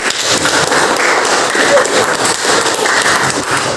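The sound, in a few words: applause for a group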